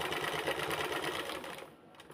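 A sewing machine stitches a fall border onto a saree, its needle chattering in a fast, steady rhythm up close before it slows and stops near the end.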